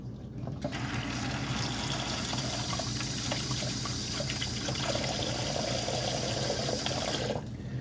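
Tap water pours steadily and loudly into a bowl coated with butter, a constant rushing fill that starts abruptly and stops just before the end.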